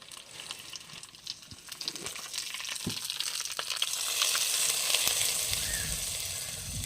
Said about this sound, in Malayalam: നമുക്ക് ഈ വറവും കൂടെ ഇട്ട് കൊടുക്കാം